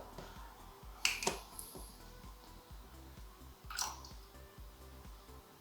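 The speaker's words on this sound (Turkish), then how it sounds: "Fermente olarak kullanacağım pet şişemin kapağını açıyorum" A plastic PET bottle cap twisted open, giving two or three short crisp cracks and a sharp snap, close and fairly quiet against a steady low hum, with no talking.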